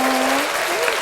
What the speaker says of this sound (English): You even got a little cheer